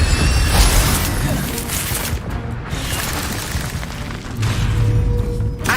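An Incendio fire spell cast in the game Hogwarts Legacy bursts out as dense, booming blasts with crackling impacts, loud and sustained throughout with a brief dip midway.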